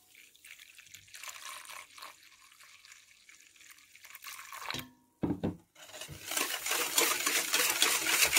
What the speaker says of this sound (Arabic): هنايا غادي ندير شويه ديال الحليب